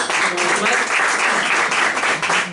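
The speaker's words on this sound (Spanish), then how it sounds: "Le damos una ofrenda de palmas a nuestro buen Dios" Steady, dense applause from a church congregation fills the whole stretch, loud and continuous without a break.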